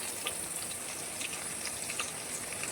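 Garlic frying in hot oil in a kadhai for a tempering of mustard seeds, cumin and curry leaves in spinach dal, a soft steady sizzle with faint crackles and no talk.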